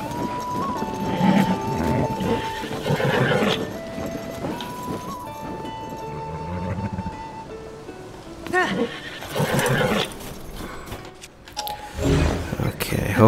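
Horse whinnies and hoof clip-clops in the video game The Legend of Zelda: Tears of the Kingdom, over music and game sounds, with a person talking over them throughout.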